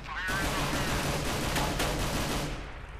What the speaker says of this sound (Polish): O kurde, padłem pod ostrzał